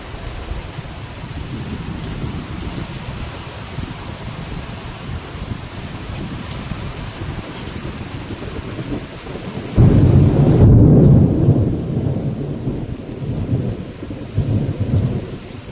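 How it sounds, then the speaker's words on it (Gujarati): Heavy rain pours down around a terrace in a steady, dense roar. About ten seconds in, a loud rumble of thunder surges and then fades, and the downpour continues afterwards. "જબરદસ્ત વરસાદ પડો જો"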